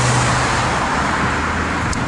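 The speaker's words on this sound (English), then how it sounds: "I guess I gotta speak up because the traffic here is pretty noisy" A busy street intersection in Tel Aviv gives off a loud, constant roar of passing cars and buses. The traffic noise stays dense and unbroken throughout, with no voices.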